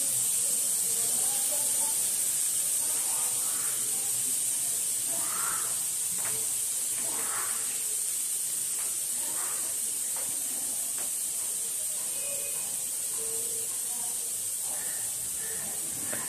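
Potatoes frying in spice paste for an egg and potato curry, a steady close sizzling hiss that runs unbroken throughout, with faint background sounds beneath it.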